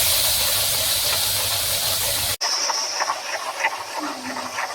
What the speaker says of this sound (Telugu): రెండు అరటి పండ్లు పండినవి అలా వేయించుకుందాము.